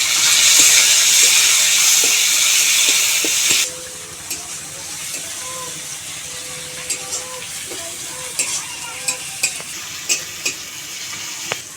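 Chopped medium tomato dropped into onion and garlic fried until browned, starting with a loud bright sizzle that drops sharply after a few seconds to a softer crackle, with occasional stirring clinks close by.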